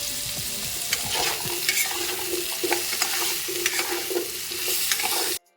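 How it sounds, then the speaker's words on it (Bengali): Diced potatoes fry with salt and turmeric in a pan, giving a continuous close sizzle with repeated scraping strokes of a spatula stirring, and the sound cuts off abruptly at the end. "ভাজার সময় আমি এতে দিয়ে দিচ্ছি নুন আর একটু হলুদের গুঁড়ো দিয়ে আমি একটু ভাজা ভাজা করে নেব"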